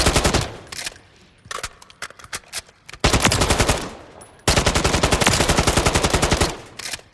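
Alpha AK rifle chambered in 5.45x39mm, firing in Call of Duty Modern Warfare III: several loud, close full-auto bursts of rapid, evenly spaced shots, separated by short pauses and brief single shots, with no talking over them.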